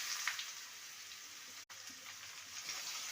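Bottle gourd pieces hit hot oil tempered with whole cumin, a dried red chilli and lentil dumplings, giving a steady close hiss of frying with a brief drop-out partway through.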